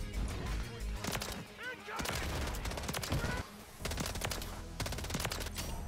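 Rapid automatic gunfire from the video game Modern Warfare 3, loud, dense bursts filling nearly the whole stretch with brief gaps, close and continuous.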